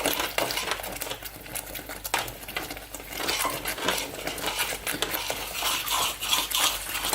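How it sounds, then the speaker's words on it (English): Cheese sauce being stirred in a pan for nachos, with steady scraping and clinking of a utensil against the metal and a soft bubbling patter, close and continuous without talk. "And just keep on stirring this."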